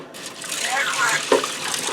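Water and milk being poured into a Ninja Speedi cooker, a soft close trickle and splash lasting about two seconds with a small burst partway through.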